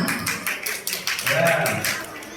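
Scattered hand claps patter briefly through an audience at a school Maulid Nabi celebration quiz, uneven and fairly close, overlapping with speech.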